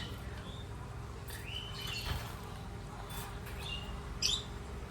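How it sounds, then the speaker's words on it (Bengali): Pet Java sparrows give scattered short chirps and tweets over a steady low background hum, several calls in a row at close range, with no talking. "এগুলো হচ্ছে আমার জাভা পাখি"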